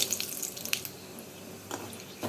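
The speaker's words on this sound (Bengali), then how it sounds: "জারটা ধুয়ে অল্প জল দিয়ে দিলাম" Tap water runs steadily into a sink as a blender jar is rinsed in a home kitchen during mutton malai kofta cooking, a soft continuous splashing stream with a few brighter splashes.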